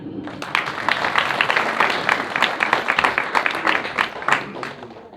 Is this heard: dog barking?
no